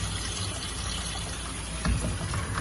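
Peas being rinsed in water while preparing an oxtail beef stew at home, a steady rushing and gushing of running water with a brief splashy surge near the end, no talk.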